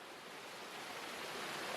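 Steady roar of a waterfall below steep cliffs in a rocky slide zone, a dense unbroken rush of falling water heard alone, close and constant.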